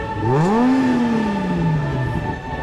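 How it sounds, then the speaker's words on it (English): A 435-horsepower car with an active exhaust revs once, a smooth engine note climbing, holding loud and close, then easing back down as the revs fall, with no voices. "It also has an active exhaust, which is a wonderful note. When you put your foot in it, it gets loud."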